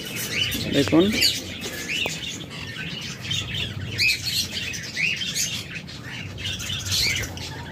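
A pair of speed blue lovebirds squawk and chirp repeatedly nearby in a steady chatter of calls, while someone speaks briefly over them.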